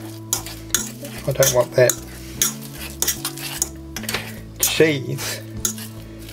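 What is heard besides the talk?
mixing mashed potato with a fork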